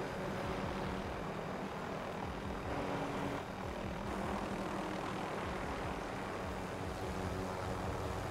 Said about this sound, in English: Advised, enemy attack chopper incoming.